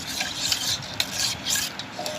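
Packet milk powder being stirred into cooled cow's milk, a continuous close swishing and rubbing of a spoon circling through the liquid, with no voices.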